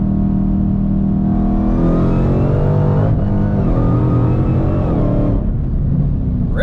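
A car on Mickey Thompson ET Street tires pulls hard in third gear from 70 mph, its loud close engine note climbing toward redline, dipping at a brief shift, then climbing again before lifting off.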